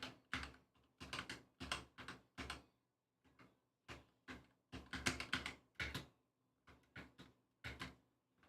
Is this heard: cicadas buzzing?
no